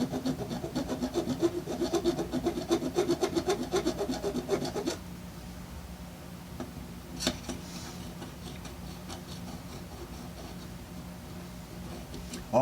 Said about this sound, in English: There's a round file. We're just going to come in here and just clean up the edge.